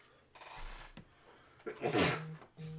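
A single sneeze with a sharp inhale and a bursting exhale, close and fairly loud, with a brief voice sound just after.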